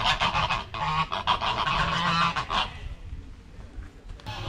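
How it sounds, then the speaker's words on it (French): A group of geese honk loudly in a rapid, overlapping burst of calls close by, then fall quieter to scattered faint noises. "C'est des oies."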